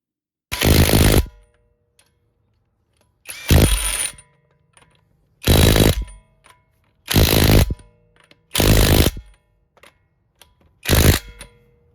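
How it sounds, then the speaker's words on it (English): A front wheel goes back on a 2019–2021 Lexus ES350 after a brake pad and rotor job: six loud, separate bursts of a power impact wrench, each about a second long, with quiet pauses between them. "Now the only thing left is to like install the wheel on."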